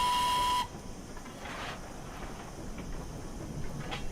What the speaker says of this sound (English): Did a whistle for her.